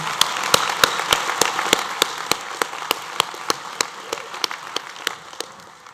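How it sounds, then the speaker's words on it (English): A crowd applauds steadily at a graduation ceremony, many hands clapping together in a dense, sustained patter with sharper individual claps standing out throughout. "I have a final round of applause for Diploma in Fashion."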